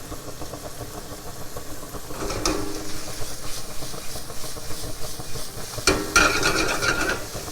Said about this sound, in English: And we're going to mix this up, saute a little bit